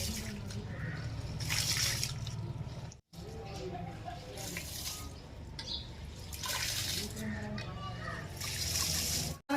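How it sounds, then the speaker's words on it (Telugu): Rice being washed in a bowl of water, splashing and sloshing with drips, under steady talking; brief pauses where the sound drops out. "ఇప్పుడు మంచిగా కడుక్కోవాలి చక్కగా కడిగితే నీళ్ళు తెల్లగా వెళ్తాయి"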